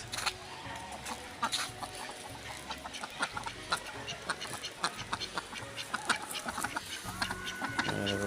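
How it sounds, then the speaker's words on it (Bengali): Domestic ducks in a village, with chickens nearby, give off repeated quacks and clucks against a busy outdoor background, fairly close and steady throughout. "দেখো পাতি হাঁস"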